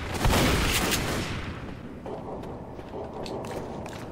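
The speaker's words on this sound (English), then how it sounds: "We need to shoot down that barricade!" Loud burst of gunfire in the zombie shooter Left 4 Dead, fired to shoot down a barricade: a dense opening volley that fades into scattered, fainter shots and game noise.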